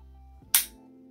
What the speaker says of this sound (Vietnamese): chúng ta bóp cò đó, cò mổ nó sẽ di chuyển